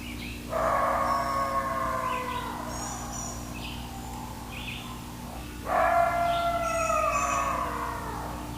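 Field recording of an alleged Dogman from a remote area, two long wavering howls with harmonic tones, each falling in pitch, over a steady low hum, with faint chirps between.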